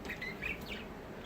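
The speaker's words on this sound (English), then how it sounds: "And here is Sid the cockatoo" A pet cockatoo kept indoors alongside parakeets gives a few faint, scratchy chirping calls in quick succession, set against a steady room noise with no talking.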